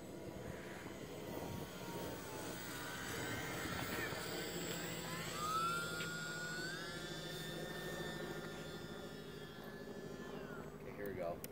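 E-flite J-3 Cub UMX RC airplane, a small electric model flying outdoors, its thin whine rising and falling with throttle at moderate distance while someone talks over it.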